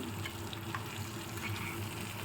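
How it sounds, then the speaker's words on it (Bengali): Large pieces of aar fish fry in a pan with green chillies, a steady, moderately close hiss and crackle of hot oil with no voices. "মাছটা দেখো একটা একটা করে ভাজার ফলে খুব সুন্দর করে ভাজা হচ্ছে"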